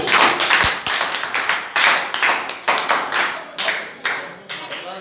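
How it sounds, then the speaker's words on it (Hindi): Class of students clapping for a classmate during a Hindi-medium science lesson on solar and lunar eclipses, a steady series of sharp hand claps at close range, some claps overlapping, with faint voices underneath. "दीदी ताली प्रारंभ"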